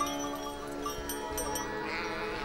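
Sheep on a summer alpine pasture bleating, several overlapping calls against a steady outdoor background, moderately close and fairly faint.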